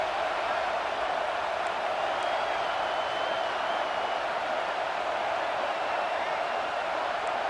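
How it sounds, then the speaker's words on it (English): Steady roar of a large video game stadium crowd in EA Sports College Football 26, a broad continuous wash of cheering noise with no breaks, loud and distant-sounding. "And here comes the noise. This crowd is trying to inspire this defense"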